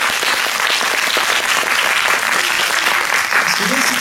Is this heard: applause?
yes